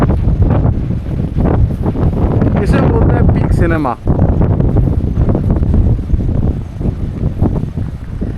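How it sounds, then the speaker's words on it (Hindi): Strong wind roars and buffets the microphone in heavy gusts while someone talks over it at close range, at 5 a.m. before dawn under storm clouds beside a railway line at Arnetha. "मैंने सोचा नहीं था कि सुबह 5 बजे इतनी तेज़ हवा चलती मिलेगी मुझे"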